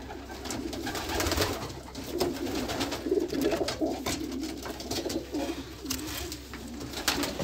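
Young racing pigeons coo continuously in a loft, several birds overlapping in soft, repeated throaty calls that carry on steadily at close range, with no one speaking.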